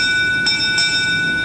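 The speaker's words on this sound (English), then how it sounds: "The bell invites me." A bell rings during a school stage production of Macbeth, giving a steady sustained tone with two brief louder strikes. It sounds fairly loud and holds alone, with no talk over it.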